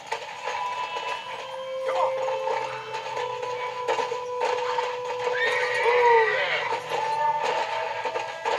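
Horse in the Western video game Red Dead Redemption, giving a clear neigh with steady clip-clopping hooves and game ambience, a whinny rising mid-clip over several seconds.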